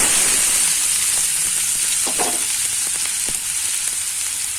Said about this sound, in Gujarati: બે દાણા જ આપણે જીરું નાખીશું ત્યારબાદ આપણે ડુંગળી ઉમેરી દેશું